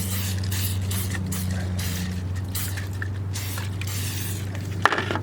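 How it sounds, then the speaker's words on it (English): Repeated quick hissing sprays of oil from a nozzle into a mould for concrete weight plates, close and fairly loud, in an irregular series over steady low hum, ending with a small knock. "and spray the bottom."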